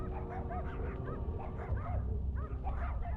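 A dog in the video game Goosebumps The Game yips, whimpers and barks in rapid repeated bursts, close and fairly loud over a low rumbling background.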